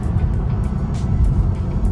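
A Tesla Model 3 accelerates from a traffic light, a loud, steady low road and motor rumble with faint whooshing bursts, heard from inside the car.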